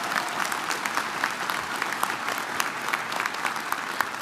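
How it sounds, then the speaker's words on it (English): Steady, dense applause from a university audience honoring student athletes, lasting the full few seconds at an even level with no talk over it. "Let's give these outstanding and talented Highlanders a warm round of"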